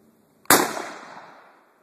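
A single sharp report from a .30-06 rifle, a loud close blast whose ringing tail fades over about a second and a half, with no talk.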